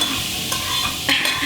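Shrimp dropped into olive oil in a pot, a sharp close sizzle flaring up as they hit the hot oil, alone without talk.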